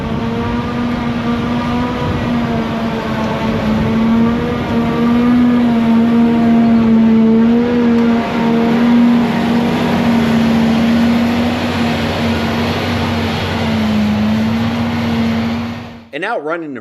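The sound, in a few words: Claas Jaguar 1200 forage harvester, 12-cylinder diesel engine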